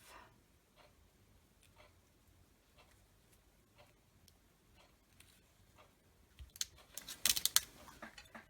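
Scissors cutting paper or craft material: a series of faint, spaced snips building to a louder cluster of quick crisp cuts near the end.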